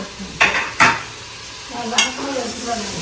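Chopped tomatoes sauté in a hot pan for mutton biryani, a soft sizzle under several scraping stirs of a spoon, close up and without talk.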